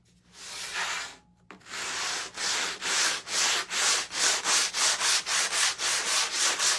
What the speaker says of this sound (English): I'm going to give it a quick sand.